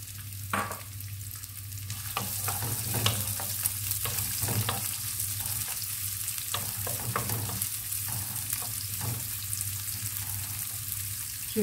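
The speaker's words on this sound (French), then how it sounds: "Je vais faire revenir mes légumes, voilà, l'huile d'olive," Onions and vegetables sauté in olive oil in a pan, a steady close sizzle broken by frequent scraping stirs and clinks of the utensil.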